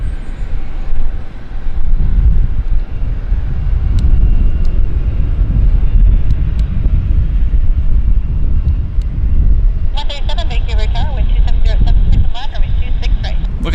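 An Air Canada Boeing 787 Dreamliner arrives at Vancouver airport, a low, steady rumble of jet engines heard at a distance with wind buffeting the microphone and brief clattering sounds near the end.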